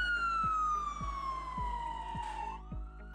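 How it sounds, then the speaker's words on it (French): An ambulance siren wails in one long, steadily falling tone over a low rumble with regular soft thumps, heard at moderate distance with no voices. "suivi d'un hurlement d'une sirène d'ambulance"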